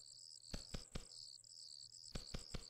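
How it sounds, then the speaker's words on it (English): Crickets chirp in the blocky fantasy game Cube World, a continuous high trill broken by sharp rhythmic clicks and taps, faint overall, with no talking. "Seriously, what's with all the crickets and everything?"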